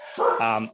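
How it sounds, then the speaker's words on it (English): A dog gives one short, loud bark that rises into a brief whiny yip, close by and sitting under a faint trace of indoor room sound. "I'm sorry about my dog."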